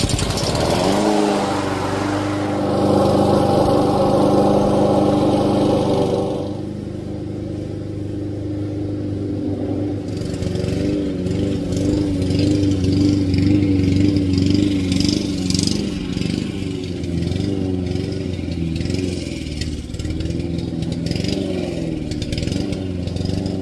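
A Honda GCV160 engine on a Husqvarna rear-wheel-drive lawn mower runs steadily close by, a loud continuous mid-pitched drone with some shifts in pitch and small surges as it runs.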